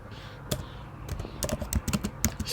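A command being typed on a MacBook keyboard, a quick run of close, crisp key taps in uneven bursts, alone with no voices.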